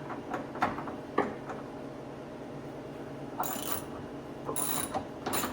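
Ratchet tightening tailgate seal bolts on a 2024-or-later Ford Ranger, giving quiet scattered clicks and metallic ticks over a steady background hum, with a few brighter bursts.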